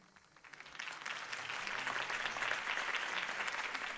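A video game crowd's applause in Batman: The Telltale Series rises from quiet clapping into full, sustained cheering and clapping that carries on to the end.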